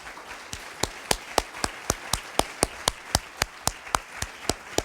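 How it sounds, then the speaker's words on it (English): Sparse, evenly spaced claps from a symposium audience applauding themselves, a slow steady rhythm of sharp individual hand claps in a quiet room, fairly faint. "I would like you to give yourselves a round of applause for showing up and being willing."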